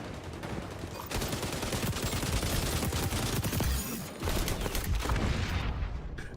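A light machine gun in XDefiant fires long, rapid continuous bursts close up, with a brief break before the fire resumes, no talk over it.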